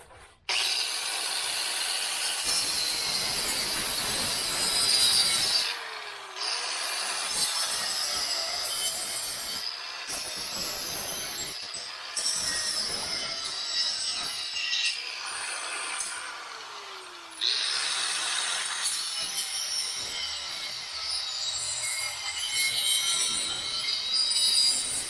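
A broken chair part cracking and tearing as it is forced out, with repeated strained creaks and scraping bursts over a sustained noisy hiss, each separated by brief pauses.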